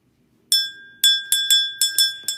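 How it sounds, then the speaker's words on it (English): A small bell rung by hand, seven bright metallic strikes with clear sustained ringing tones, struck in a quick uneven rhythm, close and loud with nothing else around. "I ring this bell anytime I get started"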